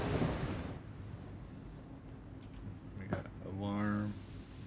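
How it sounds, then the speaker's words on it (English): An alarm in the horror video game Obsideo beeps faintly in quick, high bursts that repeat about once a second, under low background noise, with someone speaking near the end. "Oh, an alarm's in here."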